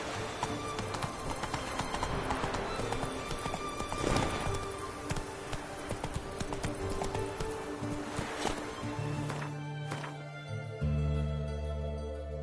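Hooves of Roach, the horse in The Witcher video game, clip-clopping in a quick steady rhythm, close and fairly loud against game ambience, then giving way to a low droning tone near the end.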